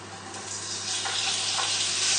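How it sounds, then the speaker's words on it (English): Bacon sizzling in oil in a hot pan, a steady close crackling hiss that grows slightly louder over two seconds, with no talking. "we're going to add in the bacon. And hopefully this will be nice and loud and sizzling."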